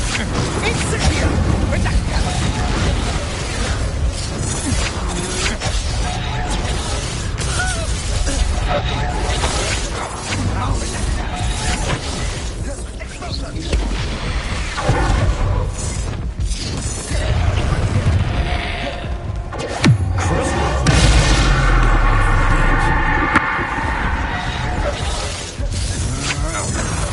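Spell blasts crash and shatter during combat in Hogwarts Legacy, with whooshes and heavy impacts under a man's spoken incantations.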